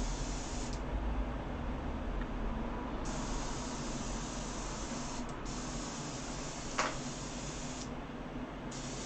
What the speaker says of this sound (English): Must clean the airbrush out immediately.